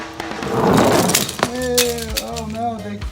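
Toy cars crash down a cardboard ramp in a clattery tumble of knocks and rattles, followed by a string of lighter clicks as someone talks over them.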